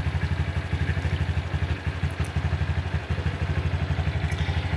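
A 2019 Honda Super Cub C125 engine running just after starting, a close, steady, rapid thumping idle with light mechanical clatter and no voices.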